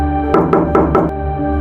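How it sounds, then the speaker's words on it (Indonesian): Knocking on the doors of a house at night, heard as a run of four quick, evenly spaced knocks and then two more spread-out raps, loud and close over a steady droning background. "Seperti ada yang mengetuk semua pintu rumah bersamaan."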